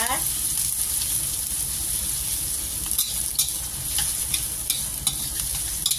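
Shallots, garlic and galangal fry in hot oil in a wok, a bright continuous sizzle with a cluster of clicks and scrapes from stirring toward the end.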